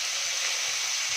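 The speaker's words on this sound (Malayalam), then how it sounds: "അതിൽ കുറച്ചുകൂടെ തക്കാളി, ഒരു സവോളയും കൂടെ ഇട്ട് വഴറ്റുന്നുണ്ട്." Tomato and onion sautéing in oil for a chickpea curry, an even, continuous hissing sizzle held close, with a faint stirring knock right at the end.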